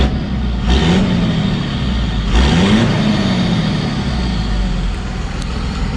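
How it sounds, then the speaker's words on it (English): A 2001 Dodge Ram 2500 Cummins diesel with a straight pipe and 250,000 miles revs twice in quick succession, loud and close, each blip rising over a deep rumbling idle. "Let's give you guys a couple little revs real quick."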